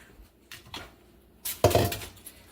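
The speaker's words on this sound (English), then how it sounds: "I'm going to now bring my pan and I'm going to plop it down." A baking pan plopped down onto a kitchen counter with bread dough inside, a short handling rustle followed by a dull close thump and a brief rattle, no voices.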